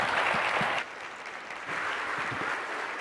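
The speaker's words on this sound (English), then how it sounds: "If you'll help me give him a round of applause." A county government event audience gives a round of applause, a brief burst of dense clapping that dips midway and picks up again, with no speech over it.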